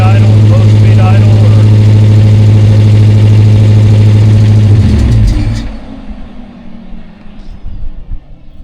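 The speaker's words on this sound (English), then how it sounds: "I don't like how high it idles." A car engine holds a loud, steady high idle with a strong low hum, then drops abruptly after about five seconds, leaving quieter rumbling and faint background noise.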